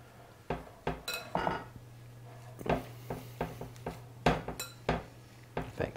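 Clinking and scraping of utensil against a bowl as egg is worked into a fish cake mixture, irregular knocks and clatter up close, no talking.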